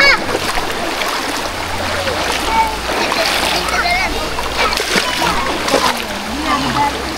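People bathing in cold river water at Hulu Besut, Terengganu, splash continuously against the steady rush of the flowing stream, with voices of children and adults calling out throughout.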